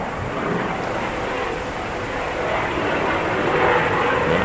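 A private helicopter passes overhead outdoors above a cemetery, its broad rotor and engine roar steady and fairly loud, swelling slightly toward the end.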